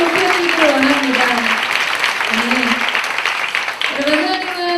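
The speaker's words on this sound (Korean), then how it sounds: "다시 한번 큰 박수를 올려드릴까요?" Church congregation applauding during a worship service, a loud continuous wash of clapping heard under sustained singing or melodic voices.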